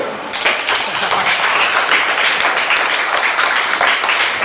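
Third-grade schoolchildren in a classroom burst into loud, close applause, a dense continuous patter of clapping hands that starts abruptly and holds steady throughout.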